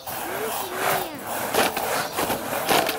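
A hand saw cuts through wood outdoors, rasping strokes repeating in an uneven rhythm at close range, with a faint high squeak at the start and voices in the background.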